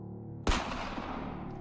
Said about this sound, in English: she grabbed the gun from my hands, aimed it slightly away from the window, and fired a shot into the wooden wall near it